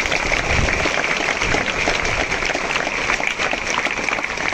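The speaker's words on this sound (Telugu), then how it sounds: "can you have a big round of applause" A crowd claps steadily in sustained, dense applause that fills the room without pause at a motivational talk.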